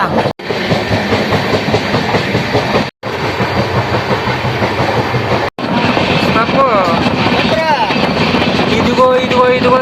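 Steady rumbling rattle of a train moving fast, loud and continuous, with voices talking and singing over it.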